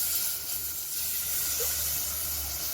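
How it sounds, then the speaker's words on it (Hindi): Milk poured into a hot pan of roasted flour mixture for a cheese sauce gives a steady hiss and sizzle that holds across the whole moment, with no voices. "तो अब हम इसमें 1/2 कप के करीब दूध डालेंगे।"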